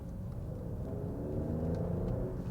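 Steady low engine rumble with a slight rise in pitch, an Alfa Romeo Stelvio Quadrifoglio motor humming and revving gently, close and continuous.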